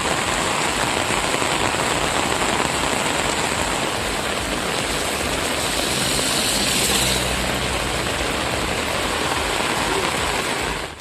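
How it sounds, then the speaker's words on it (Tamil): Heavy rain falls steadily in Thirukkuvalai, Nagapattinam district, a dense broadband hiss of downpour that stays loud and even for the whole stretch with no voices. "இன்றைக்கி ஒரு அரை மணி நேரமாக நல்ல மழை எடுத்து வாங்கிறது."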